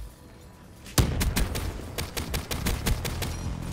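Rapid bursts of MX Garand rifle fire in a Black Ops 3 Domination match, a sharp close shot followed by a fast string of about a dozen punchy rounds with light game ambience beneath.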